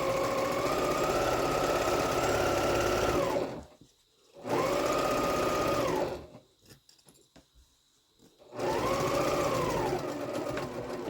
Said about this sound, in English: I'm just back stitching